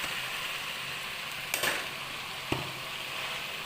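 Boiled chowmein noodles tossed into a hot frying pan give a steady broadband sizzle, broken by two brief stirring knocks of a utensil against the pan.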